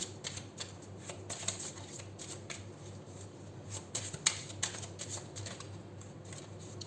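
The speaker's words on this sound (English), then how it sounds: "Three shuffles, and we'll take a couple of Romance Angel cards for you." Romance Angel oracle cards being shuffled in a steady run of crisp, papery riffles and soft slaps, close and fairly quiet, with no talking over them.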